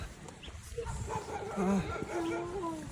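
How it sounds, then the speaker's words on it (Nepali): A village dog barks and yips a few times at a distance while a person talks over it. "कुकुर भुक्छ त्यहाँ आएर"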